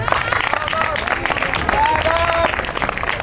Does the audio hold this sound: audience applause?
yes